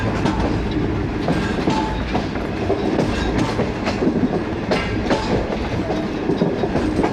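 A passenger train rolls onto the loop line at a railway station, with steady wheel and carriage rumble, rhythmic clickety-clack and occasional sharp rail clanks heard close up throughout.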